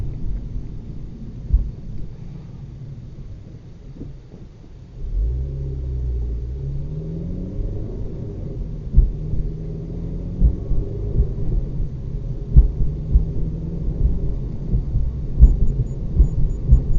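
A 2008 Honda Civic Si on a test drive, tuned to remove rev hang, gives a low, droning engine note that rises and falls with revving. It sounds muffled, as heard from inside the cabin.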